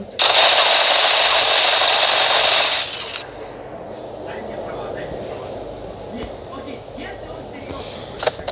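Video game gunfire: a loud continuous burst of rapid automatic fire for about three seconds, then quieter background noise with a few faint clicks.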